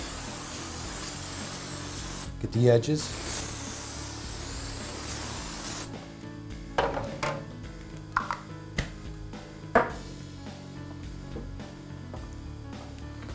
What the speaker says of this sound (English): All right, so we'll spray this down.